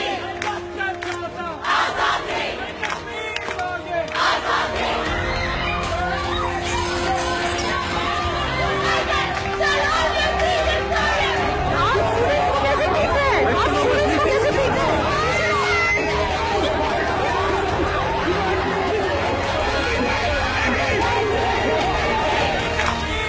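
A large crowd of students at a Delhi University protest chanting slogans in loud unison, voices rising and falling in rhythmic waves over a dense roar of shouting that runs throughout.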